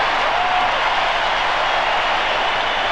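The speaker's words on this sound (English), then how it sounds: "Standing ovation" Sustained crowd applause from a packed United Center arena standing for a player who has fouled out in a 1996 NBA Finals game, a loud, steady roar of clapping and cheering with no break throughout.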